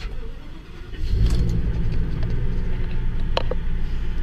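A 2017 Ford E-450 U-Haul 15-foot truck's 6.8L V10 Triton engine cranks briefly and catches near one second, then settles into a steady, loud low idle with a few faint clicks and jingles over it.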